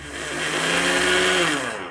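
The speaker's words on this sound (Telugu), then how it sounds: "చక్కెర తీసుకొని ఒకసారి మిక్సీ జార్లో వేసి దీన్ని ఒక్కసారి ఫస్ట్ మిక్సీ పడదాం" A kitchen mixer grinder whirs loudly as it grinds sugar in its jar, the motor rising quickly to a steady high-pitched roar for a couple of seconds before cutting off.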